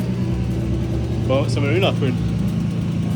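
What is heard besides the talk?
turbo BMW E36 323 car engine running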